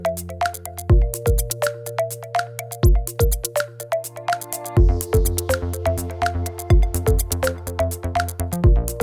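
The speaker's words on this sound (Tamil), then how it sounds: "இப்போ வந்து நம்ம Vivo V25 Proவை ஸ்விட்ச் ஆன் பண்ணுவோம்." A Vivo V25 Pro smartphone powering on plays a melodic startup chime: a bright sequence of plucked, bell-like notes over steady bass tones, clear and continuous for several seconds.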